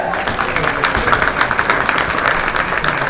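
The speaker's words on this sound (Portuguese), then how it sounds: "os adeptos batem palmas à equipa vencedora" Fans at a third-division national roller hockey match between Sporting Torres and Parede FC clap steadily for the winning team, a dense, even patter of applause across the whole moment with faint voices mixed in.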